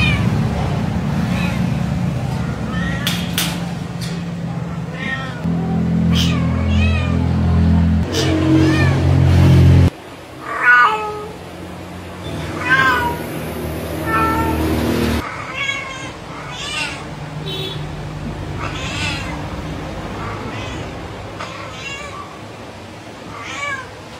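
Jumping, a cat shut in a cage, meows loudly and repeatedly in insistent, wailing calls, with a rough engine-like noise in the first seconds.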